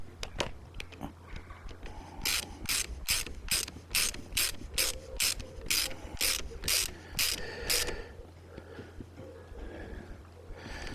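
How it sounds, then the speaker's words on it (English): A ratcheting spanner tightens a nylon lock nut on the clutch lever of a BMW R1200GSA motorcycle, giving a quick run of about fourteen sharp, even clicks, close and distinct against a low background hum. "a little nylon thread locked nut, spanner on the back"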